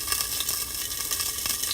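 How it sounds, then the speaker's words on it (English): Salmon searing in a hot pan, a short close burst of steady spitting sizzle with small pops, no one speaking. "see if we can get good, nice sear on the top side of this fish"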